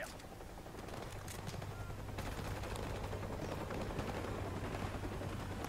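Rapid bursts of MP5 submachine gun fire in Call of Duty: Modern Warfare Remastered, a dense continuous rattle of shots running loud throughout with a steady low drone underneath.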